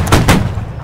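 Musket fire from a Napoleonic-era line battle in Holdfast: Nations at War. Two loud, close reports crack in quick succession and leave a short rumbling echo.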